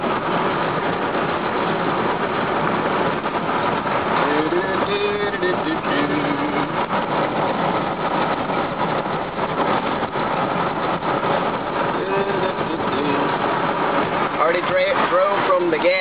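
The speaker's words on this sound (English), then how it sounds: "I'm driving down the street with my injectors all unplugged." A car runs on gasoline vapor with its fuel injectors unplugged, cruising down a street at about 40 mph. A steady low engine and road drone is heard from inside, with a person talking over it.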